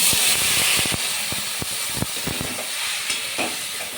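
Boiled peas and chickpeas are stirred into frying masala with chopped tomato, giving a steady sizzle with repeated scraping strokes of a spoon against the pan, close and alone.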